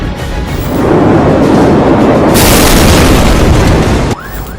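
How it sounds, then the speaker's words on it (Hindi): A massive explosion on the Beirut waterfront booms and roars for several seconds in a loud, sustained blast of low rumbling noise, then abruptly drops off. "धमाका बैरूत के समुद्र तट पर हुआ था"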